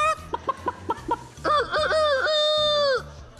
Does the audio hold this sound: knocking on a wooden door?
no